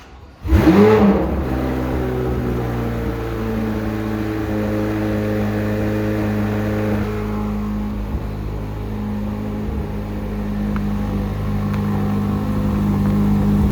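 A 2024 Chevrolet Corvette C8 Z06 fires up with a loud rev, then settles into a steady, droning engine tone while driving, heard from inside the car with a few changes in pitch.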